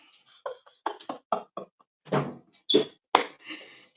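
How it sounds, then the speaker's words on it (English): An indoor door is shut in a series of knocks and thuds, several short close impacts with a heavier latch-like thump near the end. "Close the door behind you."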